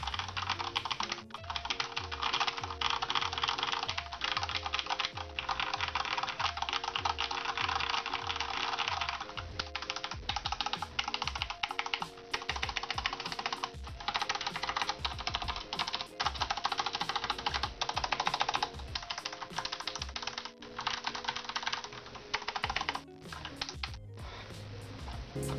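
Someone types on a Corsair K63 mechanical keyboard with linear red switches and lubricated stabilizers. Close, crisp keystroke clatter comes in quick bursts separated by brief pauses, with no talking.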